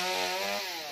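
A chainsaw rips through a tree branch during a high, risky tree-cutting job, a loud continuous buzzing whine close by that eases slightly toward the end, with no voices.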